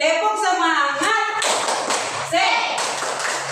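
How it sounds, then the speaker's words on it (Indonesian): Elementary school class in Indonesia doing a rhythmic cheer clap, sharp group claps in a patterned rhythm following a voice, close and busy in a classroom. "mari kita tepuk semangat"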